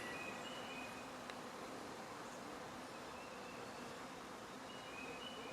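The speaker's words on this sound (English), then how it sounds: "is this like a big swarm trying to rob some resources from my other hives?" A large swarm of honey bees crowds around a hive, a steady, close buzzing hum that stays even throughout, with a few individual bees droning past.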